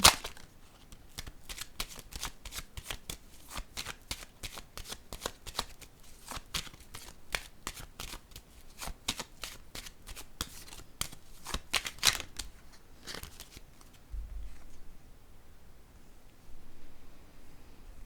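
Playing cards are handled and laid down: a long run of quick, crisp riffling clicks and taps close by that thins out near the end, leaving a quieter hush with no talk.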